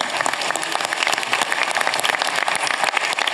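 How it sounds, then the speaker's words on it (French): An audience at a town founding assembly breaks into steady, dense applause, many hands clapping loudly and evenly throughout with no voices standing out. "Je veux que la ministre vous entende applaudir."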